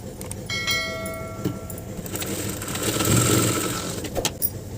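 A sewing machine stitches a French seam along the side of a kurta salwar, running loud and close in one continuous, noisy burst with some ringing metallic tones at the start.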